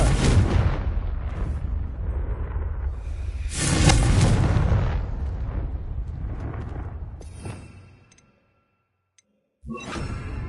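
A Confringo fire spell explodes in Hogwarts Legacy, a loud booming blast with a rumbling tail that swells and fades, then goes silent before another burst of noise starts.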